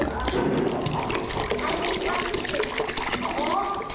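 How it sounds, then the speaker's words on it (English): Water is poured into a bowl during a children's measuring lesson on liters, a continuous gurgling, splashing fill that is fairly close and loud, with voices in the background. "pour that water in"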